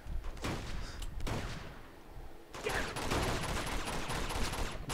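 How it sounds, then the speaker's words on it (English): Gunfire in the video game Uncharted 2 sounds as a few sharp shots at first, then a sustained, dense rattle of fire, moderately loud with no talking over it. "I'm shooting him."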